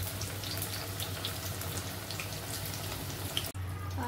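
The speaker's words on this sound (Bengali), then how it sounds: "গ্যাস লো ফ্লেমে দিয়ে ভালো করে ভেজে নিতে হবে।" Pumpkin pieces frying gently in a pan over a low gas flame, giving a steady, close hiss and crackle with a low hum beneath, which stops abruptly near the end.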